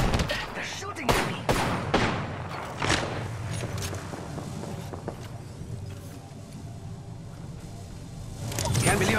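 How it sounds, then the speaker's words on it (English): Gunfire in the Apex Legends video game, with a string of loud, sharp shots and bursts early on, thinning later into scattered thuds and steps, while a player talks over the action. "They're shooting at me!"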